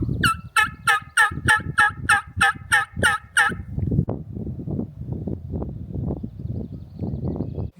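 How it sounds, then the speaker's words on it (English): A wild turkey gobbles loudly and close in a Minnesota or Michigan hunting area, about eight rapid repeated gobbles, followed by rustling and soft movement noise. "he's gonna try and call to see if we can get a gobble so we know they're here"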